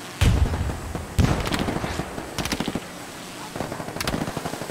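Video game gunfire, with sharp shots and brief rattling bursts spaced through a loud, busy battle mix, plus a few faint voices in the background.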